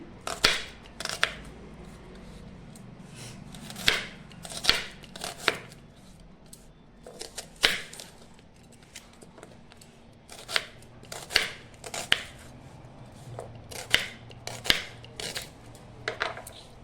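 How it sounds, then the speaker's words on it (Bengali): A knife chops onions into large pieces on a board for a mutton curry, producing crisp, clustered thuds that come in uneven bursts over a quiet background. "এরকম করে আপনারা একটু বড় বড় সাইজ করে কেটে নেবেন"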